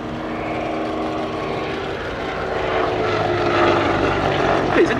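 A Hawker Nimrod Mk.1 biplane flies past at the Duxford Battle of Britain Airshow, its propeller engine droning steadily and growing slightly louder as it passes at a moderate distance.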